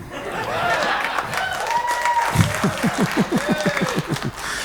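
Comedy show audience breaking into sustained applause and clapping, a dense crowd wash with some cheering and laughter throughout, loud and continuous.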